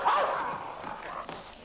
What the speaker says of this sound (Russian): Эта собака хорошо привязана, мисс Бинг.